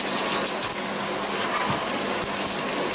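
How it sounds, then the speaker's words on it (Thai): Plain water poured into a pan of vermicelli being cooked for shrimp pad thai, a steady close gush and splash of liquid running continuously without a break. "เติมน้ำเปล่าไปนะคะเพื่อที่จะทำให้เส้นของเส้นนุ่มค่ะ"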